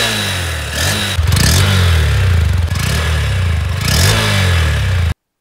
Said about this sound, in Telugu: ఒకసారి ఇంజన్ నోట్ వినండి.